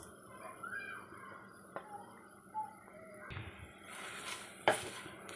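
Potatoes frying and being stirred in a pan for a crispy potato fry, giving a faint sizzle with soft scraping and a few clinks of utensil against the pan, alone with no voices.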